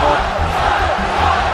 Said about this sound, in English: The incensed crowd loudly chanted, "You screwed Matt," among other things throughout this segment.